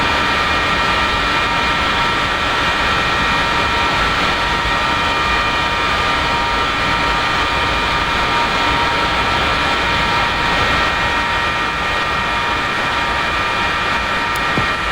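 F-4E Phantom jet engine spooling up during a cold start in the DCS flight simulator, a steady loud broadband roar with a high whine held throughout, no talk.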